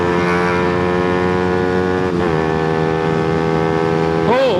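A 2024 Suzuki GSX-R125 motorcycle revs hard and accelerates, a loud, close, high-pitched engine whine with stacked tones that holds steady, dips briefly at a gear change, then climbs again under wind roar.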